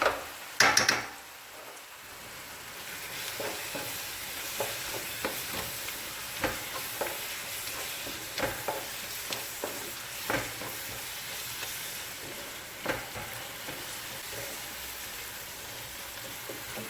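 Onions and tomato paste fry and sizzle in oil in a pan, a continuous crackling hiss punctuated by periodic scrapes and knocks of a spoon stirring, close and fairly loud with no talking.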